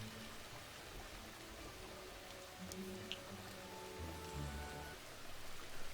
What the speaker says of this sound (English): Is it still raining? It's still raining.